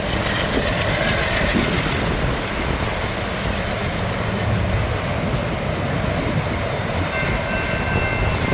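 A freight train rolls through a rail work zone in gusty wind and light rain, a loud, continuous rumble with rattling wagon noise and a hiss of wind and rain over it, close by and unbroken.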